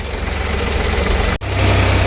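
A farm tractor's engine runs steadily at close range, a loud low rumble with a brief dropout partway through before the drone resumes.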